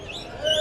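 A brief bird call rings out among caged birds at a bird market in Mirpur, a single short chirp close to the microphone.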